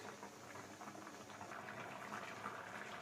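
Rice simmering in a pot of water and coconut milk for brinji rice, a faint, steady bubbling and fizzing with soft pops, close by and continuous, with no voices.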